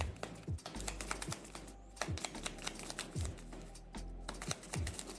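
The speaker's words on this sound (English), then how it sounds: "we're gonna shuffle this deck" Deck of game cards shuffled by hand, a run of crisp riffling bursts and soft taps repeating at close range, quiet and without talk.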